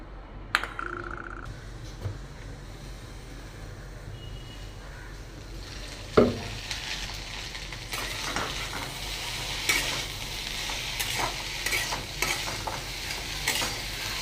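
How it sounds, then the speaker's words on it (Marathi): Okra (bhindi) roasting in a pan gives a low, steady sizzle broken by scraping stirs and scattered clicks, with one sharp clack early on; no one speaks. "तोपर्यंत भेंडी भाजायला ठेवते"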